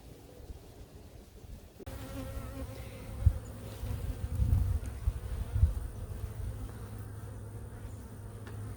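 Honeybees buzz in an opened hive, a low steady drone that thickens after a quiet start, with individual bees flying close in brief louder swells.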